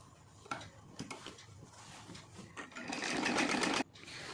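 A sewing machine stitches a silk saree in short bursts of rapid whirring, then runs in a longer, louder continuous run before stopping abruptly, close up.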